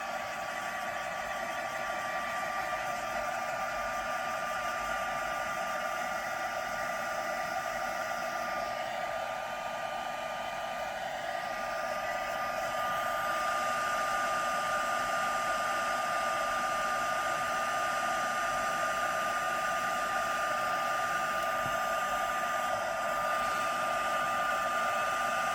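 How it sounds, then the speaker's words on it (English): A heat tool for embossing blows hot air in a continuous steady whir with a high hum, close and unbroken for about 25 seconds, with no talking. "just going in with a heat tool"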